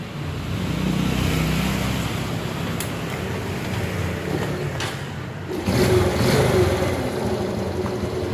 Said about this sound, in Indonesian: Kita nyalakan dulu motornya.